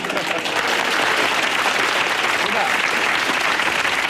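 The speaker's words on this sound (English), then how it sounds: "What I like is that even the Norwich City fans were clapping that" A studio audience at a televised football comedy chat show breaks into loud, continuous applause, a dense wall of clapping with mingled crowd voices that holds steady throughout.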